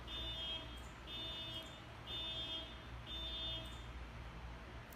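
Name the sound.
horn sounding in the background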